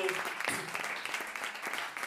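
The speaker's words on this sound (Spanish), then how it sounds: "Un aplauso para ellos" Short burst of audience applause at a small live music open-mic night, fairly faint and steady with a voice cutting in over the clapping.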